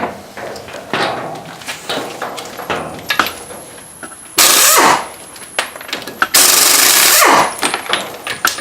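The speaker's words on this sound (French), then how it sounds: "la clé à choc que j'utilise pour démonter mes roues, c'est la KS Tool Monster Mini" A KS Tools Monster Mini compact impact wrench removing the wheels of an Audi A3 in a workshop, giving two loud sustained rattling bursts of about a second and a half each, amid scattered clanks and knocks of tools.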